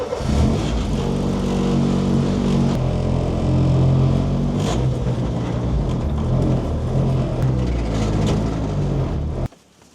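A rally car engine runs loud and close for about nine and a half seconds, rising and falling as it is revved and driven up onto a trailer, then cuts off abruptly.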